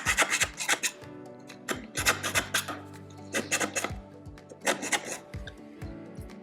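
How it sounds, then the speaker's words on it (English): A half round file rasps against a sterling silver bezel in quick, close, rhythmic strokes, each stroke a short gritty scrape in steady bursts. "I get a chance to use that half round file"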